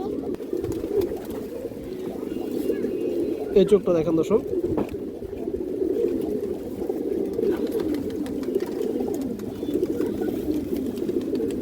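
Pigeons kept for sale, including China khaki and similar breeds, coo softly in a steady low murmur while someone talks over them close by, with a brief scuffle partway through.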